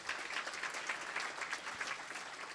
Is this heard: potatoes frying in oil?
no